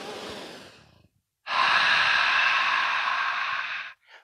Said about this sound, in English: 5-second exhale. Breathe in. One more. Breathe in.